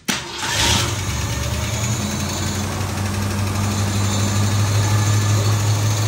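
A 1964 Ford Fairlane barn find with 30,000 original miles cranks and fires, then settles into a loud, steady, rumbling idle close by, with no speech over it.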